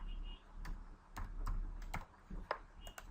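Key presses on a computer keyboard while someone enters a password in Microsoft Access, heard as a few irregular, close, crisp clicks in short bursts over a low steady hum.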